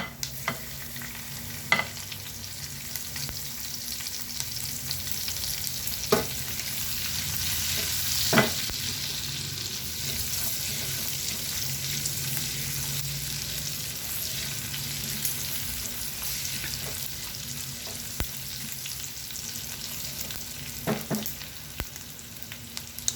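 Garlic sautéing in cooking oil in a pan for a Filipino dish, with a steady, even sizzle and occasional sharp clicks from stirring, heard alone without talk.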